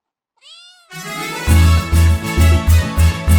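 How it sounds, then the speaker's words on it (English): A domestic cat meows up close and loudly, one drawn-out call followed by a string of repeated meows in a steady rhythm, with no talking over them. "C for cat."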